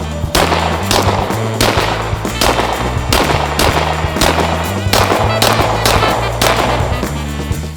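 Rapid, loud gunshots from a Dusk 19R pistol at an outdoor range, a steady string of sharp, closely spaced reports with a bit of echo, no talking.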